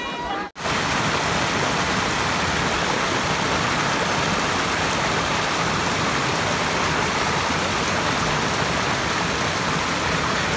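Water pours steadily at Thirparappu falls, a loud, unbroken broadband roar that fills the scene from just after a brief dip near the start, close and constant throughout.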